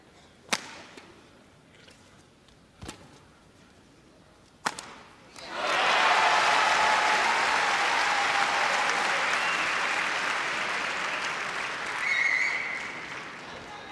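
A crowd at a 1987 All England badminton match, following a few sharp shuttle hits, bursts into sustained, dense applause that fills the hall and carries on to the end.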